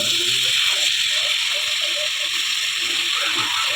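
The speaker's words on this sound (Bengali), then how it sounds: "আর জল দিয়ে দেবো" Water is poured into a pumpkin curry cooking in a pan, giving a steady gushing pour with light sloshing that runs the whole time, close and fairly loud.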